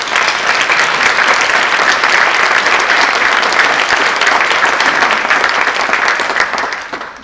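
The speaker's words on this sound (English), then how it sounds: "Let's give this panel a round of applause." Loud, sustained audience applause for a panel at a culture and community forum, a thick wash of clapping holding steady for several seconds before tapering off at the end.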